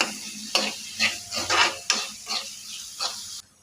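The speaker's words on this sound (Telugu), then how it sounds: "ఉప్పు వేసుకున్నాక కొంచెం కలుపుకోవాలి బాగా" A utensil stirs salt through hot oil in a pan for an ivy gourd curry, producing about seven distinct scraping strokes in a loose rhythm over a faint sizzle before it stops.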